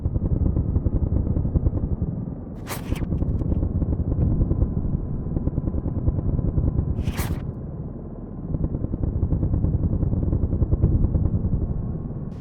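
An Apache helicopter's chain gun in the game Into the Dawn fires as a dense, rapid stream of shots over a continuous rotor drone, with two sharp bright cracks standing out and no speech.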